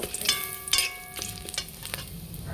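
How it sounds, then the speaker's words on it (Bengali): Garam masala and bay leaves fry in hot ghee with a bright steady sizzle, broken by a few quick scrapes and clinks of a stirring spoon, close and without talk. "গরম মশলা তেজপাতা ফোড়ন দিয়ে দিলাম ফোড়নটা একটু ভেজে নেব"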